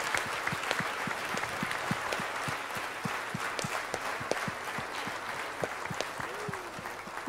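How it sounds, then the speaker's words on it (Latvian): An opera house audience applauds an orchestra and its conductor at a Christmas concert, dense sustained clapping heard from within the hall, with a voice briefly rising over the crowd. "Aplausi orķestrim un Gunāram Kalniņam"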